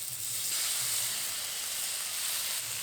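Mustard paste goes into hog plums frying in oil, and a continuous close hissing sizzle rises and holds steady with faint low stirring bumps beneath.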